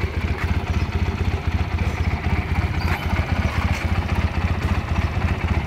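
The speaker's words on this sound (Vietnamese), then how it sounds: "Xe máy nổ cực kỳ êm nha." A Honda Rebel 150 motorcycle, a water-cooled two-cylinder, idles close by with a smooth, steady, fast-pulsing putter and no talking.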